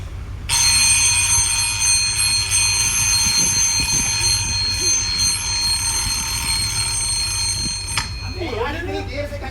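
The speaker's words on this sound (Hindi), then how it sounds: "इतनी देर से घंटी बजा रहा हूँ, सुना नहीं तूने?" A doorbell rings continuously with a bright, steady electronic tone, while voices talk underneath during a stage play; it cuts off near the end.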